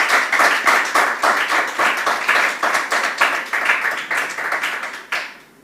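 An audience claps steadily in a continuous run of rhythmic claps, fairly loud and close, for several seconds before stopping abruptly at the end.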